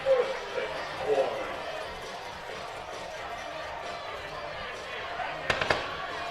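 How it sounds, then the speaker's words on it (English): Fireworks set off after a touchdown at a high school football game, a few short pops near the end, faint under a play-by-play announcer and crowd noise. "the fireworks."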